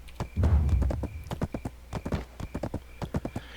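Horse hooves clip-clop in a steady, fairly close rhythm while riding in the online game Black Desert Online, the beats crisp and regular, with a brief heavier thud near the start.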